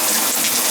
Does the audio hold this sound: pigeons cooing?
no